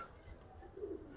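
Giribaz pigeons in a fancier's collection give a brief, soft, low coo, faint and close, with little else around it.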